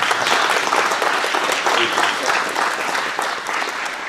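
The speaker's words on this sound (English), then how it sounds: "let's have a warm Warhawk round of applause for Herman" An audience at a talk about a boy's wartime childhood in Holland gives a warm round of applause, dense sustained clapping that stays loud and even throughout before tapering slightly at the end.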